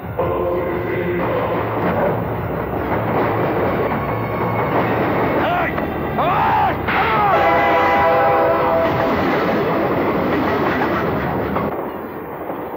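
A moving train in a Hindi film scene rumbles loudly and steadily throughout, with rhythmic clattering and a horn-like tone partway through, blended with a dramatic music score.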